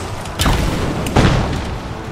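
Grenade blasts in the game Rise of the Tomb Raider: two deep, booming explosions about 0.7 seconds apart over a constant rumbling game background, loud and close, with no talking.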